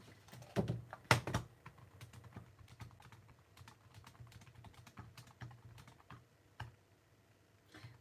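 Keys clatter on a computer keyboard in irregular bursts, close and fairly quiet, with a couple of louder knocks near the start and no talking.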